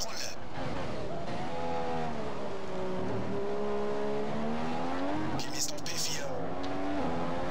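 A Formula 1 race car in the F1 2015 game, qualifying at Belgium, revs loud and close as the engine pitch climbs and falls through the gears, with short bright bursts near the end.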